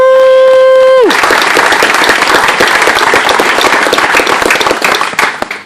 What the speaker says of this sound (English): just giving a round of applause for all the owners